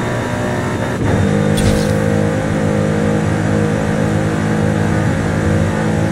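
A Pagani Huayra BC at stock engine tune in Forza Horizon 5, loud and close, pulls hard in a sustained roar after a brief shift blip, holding a dense steady drone throughout.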